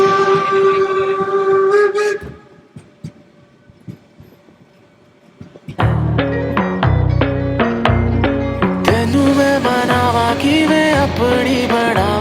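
Train whistle and rolling rail noise in Germany near the Harz Mountains, a horn-like tone giving way to loud, steady rumbling of the train for several seconds, with a brief quieter gap in between.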